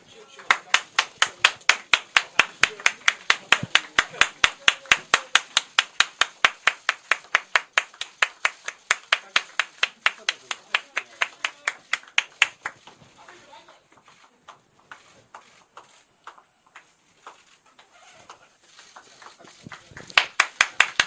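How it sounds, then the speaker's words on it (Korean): Party members clapping together at a political party's press conference, a fast rhythmic unison clap that runs about twelve seconds, fades into scattered claps and murmur, then briefly picks up again near the end. "자, 우리 당원 여러분 박수 한번 주세요"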